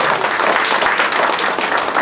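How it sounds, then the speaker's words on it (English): Audience applause at a 2024 Independence Day celebration after Mrs. Aliya Pradhan is honoured: dense, steady clapping from a large crowd, loud and continuous throughout with no talk over it. "a round of applause to Mrs. Aliya Pradhan"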